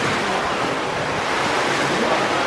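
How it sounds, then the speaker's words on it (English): Strong wind buffeting the microphone at a Pattaya beer garden, a steady loud roar of gusty noise with no talking. "it is very windy, so I'm kind of speaking close to the microphone, hoping you can hear me"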